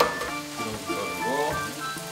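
Beef fried rice stir-fries in hot oil with a lively close sizzle and brief scraping stirs, while a voice speaks faintly in the background.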